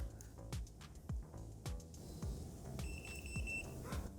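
A short series of high-pitched electronic beeps from a smart solar motorized blind motor sounds near the end, over a background of rhythmic low clicks and faint mechanical noise.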